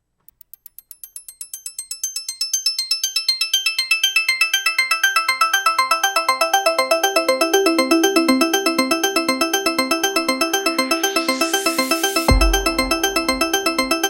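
A rising synth intro built on the Harmless synthesizer begins with sparse plucked tones that quickly thicken into a rapid, evenly pulsing pattern. A sweeping noise swells upward near the end before the pulses carry on, with no voices.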